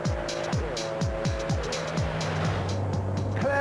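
Restored Amphicar driving on the road, engine note climbing through repeated gear pulls with a steady rhythm, close and fairly loud, with faint tire noise and no talk.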